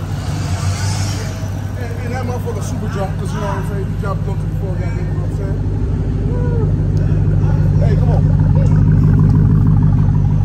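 A supercharged Dodge Hellcat rumbles steadily at low pitch, its deep engine drone rising slightly toward the end, with people talking over it throughout.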